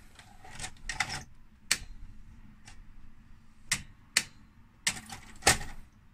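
An ITT VR3984 VHS recorder loads and then ejects a tape, giving a series of quiet mechanical clicks and clunks spaced irregularly, close by with low hum between them.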